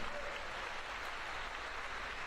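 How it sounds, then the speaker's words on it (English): Audience applause at a live kickboxing event, a dense, steady wash of clapping from a crowd, sustained and fairly loud throughout. "Round of applause."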